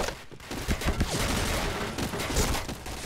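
Rapid bursts of gunfire from an HK rifle in the game Point Blank crackle continuously over a dense, noisy background, with several sharp shots standing out.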